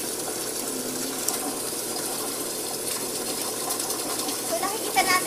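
Water pumped through a drinking water treatment setup makes a steady, even rushing and gushing noise, moderately quiet and continuous throughout.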